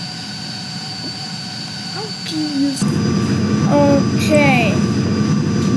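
Ryanair Boeing 737-800 jet engines hum steadily in the Project Flight video game, then rise to a louder whine. Beeps and chirps from the game and a brief spoken word sit over the engines.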